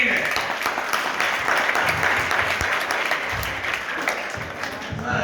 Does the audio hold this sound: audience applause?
yes